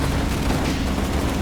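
A bazooka shell strikes a tree in the World War II wargame Combat Mission, a dense, rumbling blast that fills the short moment at a steady loudness.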